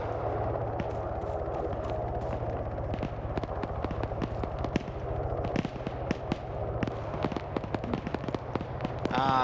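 Sustained video-game gunfire in a hostage-rescue operation with an HMG in play: dense, irregular volleys of sharp shots and bursts over a steady low rumble, loud and continuous throughout with no talking.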